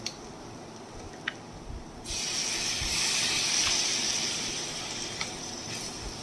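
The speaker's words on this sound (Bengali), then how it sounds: "টমেটোটা এর সাথে ভালো করে কষিয়ে নেবো একবার। সামান্য একটু জল দেবো।" Water splashed into a frying tomato and spice masala sets off a sudden loud hiss that holds steady for several seconds, close up, after a few quiet clinks.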